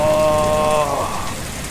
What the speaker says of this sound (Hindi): खून की एक बारिश आकाश से हो रही थी